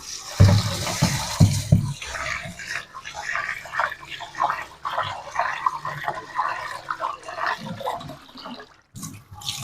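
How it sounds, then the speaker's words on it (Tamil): Rice being washed in water for chicken biryani, with sloshing, swirling and pouring sounds, a few loud splashes at the start, then continuous close splashing and trickling. "அரிசி வந்து கழுவி எடுத்துக்கலாம்"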